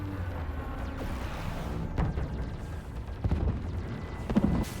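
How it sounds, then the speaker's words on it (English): Heavy upgraded cannons fire in a Mass Effect space battle, a dense rumbling barrage of low booms with sharper blasts near the second and fourth seconds, continuous and loud. "Oh, he wasn't kidding about the upgraded cannons."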